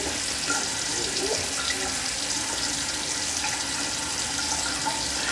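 A tap runs in a steady, even hiss while face scrub is rinsed off at a sink, with no talking.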